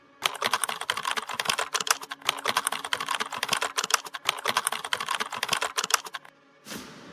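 Rapid typing on a computer keyboard, close and crisp, a dense run of key clicks with brief pauses, ending in a short soft rustle after the typing stops.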